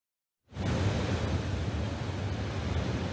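Large ocean waves break at a beach on the coast of Garut, Indonesia, a sudden, loud, steady roar of surf and wind that starts abruptly and fills the whole stretch.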